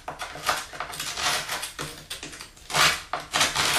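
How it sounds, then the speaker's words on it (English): Metal putty knife scraping loose tile grout out of the joints, a series of gritty strokes and clicks in an uneven rhythm, close and fairly quiet with no talk. "I'm using the putty knife here"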